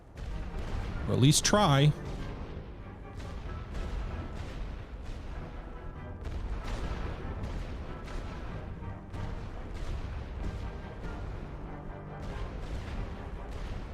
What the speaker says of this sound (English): 3 heavy artillery batteries are gonna obliterate that enemy arty